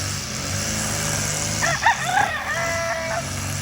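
A backyard rooster crows once in the middle distance, a drawn-out harmonic call lasting over a second, heard over a low steady background hum with faint sounds of other fowl.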